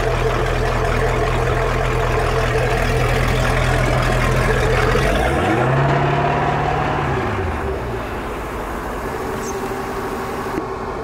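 A vehicle engine idles with a steady low hum, then revs briefly as it is shifted between reverse and forward, the pitch rising and falling once before settling back into a quieter, even idle.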